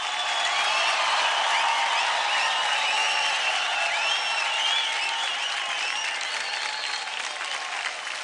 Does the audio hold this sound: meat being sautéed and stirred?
no